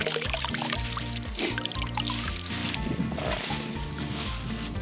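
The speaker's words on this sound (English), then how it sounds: "I'm just gonna wash them off." Water pours steadily from a tap as bullfrog leg meat is rinsed by hand, a continuous close splashing stream with small sloshes throughout.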